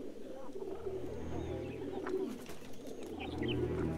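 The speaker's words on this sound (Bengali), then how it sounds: "কতবার বলেছি কালা কবুতর যেন আমার ঝাঁকে না থাকে" A flock of pigeons, some of them black, coos steadily in low, throaty rolling phrases, with faint chirps from other birds above the dense, continuous cooing.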